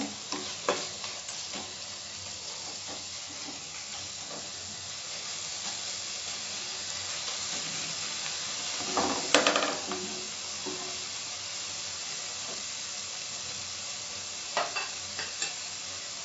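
Steady sizzle and hiss of Karnataka-style vegetable sambar frying in a pan as slit green chillies are stirred in, with occasional scrapes and a louder clatter of the spoon midway.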